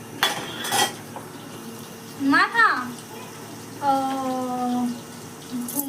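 Dishes and metal utensils clink and clatter with running water in a home kitchen, in short bursts, with a person speaking briefly over them.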